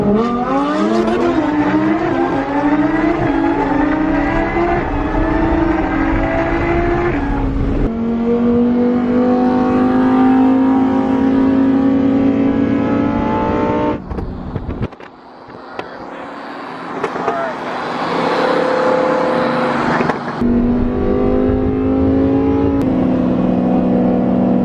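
A supercharged Lamborghini Huracan races a Bugatti Veyron, loud engines roaring and rising through gears with shifts, a brief lull, then hard acceleration again, sustained and close throughout.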